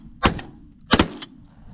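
Two sharp shotgun blasts go off during a pigeon hunt, about 0.7 seconds apart, each a short loud crack with a brief tail, close by in open air.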